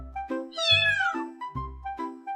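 A domestic cat meows repeatedly, close and clear, giving several short, tonal calls with one longer rising-and-falling cry in the middle, heard alone without talk.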